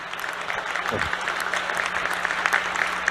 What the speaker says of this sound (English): The smart people are clapping.